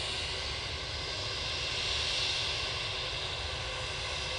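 A British Airways airliner at Manchester Airport, headed back to London, gives a steady, broad engine roar that holds at an even level throughout with no talking.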